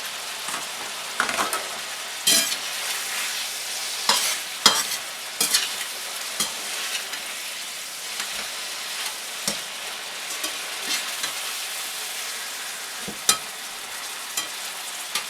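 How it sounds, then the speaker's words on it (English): Sirloin tips and bouillon cubes sizzle in melted butter in a pan, a steady crackling hiss broken by repeated sharp clinks and scrapes of stirring throughout, with no voices. "Melt butter, add cubes and meat."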